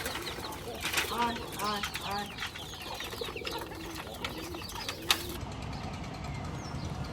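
A pigeon in a village yard flaps its wings in several quick bursts amid soft cooing from other pigeons, fairly faint against a constant background hiss.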